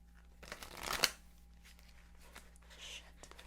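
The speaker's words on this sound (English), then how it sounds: "We're almost done shuffling." A deck of playing cards is shuffled with one brief riffling burst followed by quieter shuffling rustles, close and moderately loud, with no speech.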